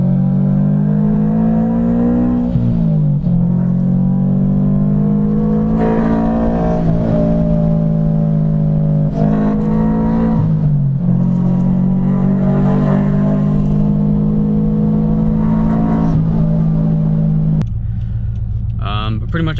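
A supercharged Subaru BRZ pulls hard from inside the cabin, its engine droning loud and steady as the pitch climbs through several gears with brief dips at each shift, before easing off near the end.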